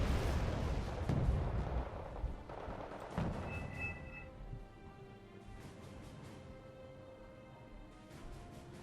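M270 rocket artillery launching in Wargame Red Dragon, a series of deep booming blasts and rumbling detonations early on that fade into distant echoes and quieter game tones.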